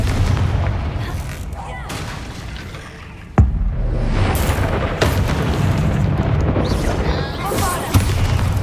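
Confringo fire spell blast in the Hogwarts Legacy video game, a sudden sharp explosive crack cutting through rumbling game ambience, followed by further booms and impacts.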